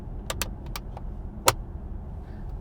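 Cup holders in a BMW 6 Series Gran Turismo cabin click and snap as they open and close, giving several short sharp knocks and one louder clack over a low, steady interior hum.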